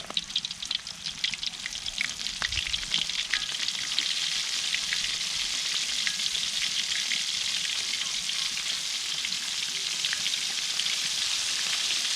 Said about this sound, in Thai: เราจะนำปลาของเราลงไปทอดนะครับ